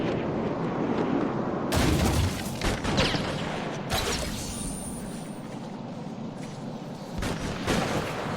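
Sniper gunfire in Batman: Arkham City, loud sharp cracks spaced a second or two apart over a roaring background din, with no voices.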